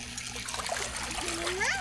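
Seawater sloshes and splashes as people wade through shallow sea toward a boat in the Philippine provinces, close and continuous, with a faint voice in the background.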